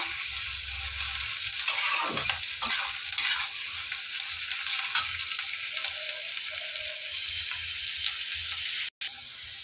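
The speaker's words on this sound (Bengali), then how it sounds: "দেখো পেঁয়াজটাকে হালকা ভেজে নিয়ে" Chopped onions fry lightly in a pan with a continuous bright hiss, punctuated by occasional soft stirring scrapes, moderately quiet and close, with no speech.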